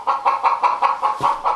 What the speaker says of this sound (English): that chicken likes me